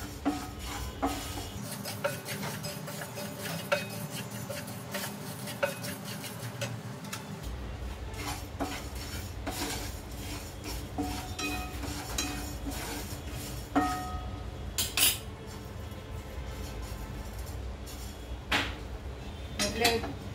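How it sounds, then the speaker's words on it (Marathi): Coriander seeds and fennel seeds dry-roasting in a pan for a raw mango pickle, with soft scraping and stirring, light clinks of a spoon on metal and sparse ticking from the seeds, faint and close. "कोरडे हे धणे भाजून घेऊया. बडीशोप एकदम हलके भाजायचे"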